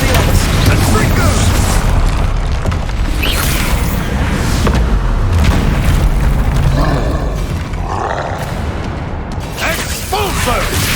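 Booming Confringo spell explosions burst repeatedly in the Hogwarts Legacy video game amid a chaotic magical duel, loud and dense over a rumbling score, with voices shouting spell incantations.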